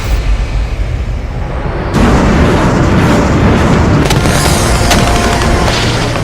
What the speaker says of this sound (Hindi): पुतिन के टैंकों ने एक एक कर 9 धमाके किए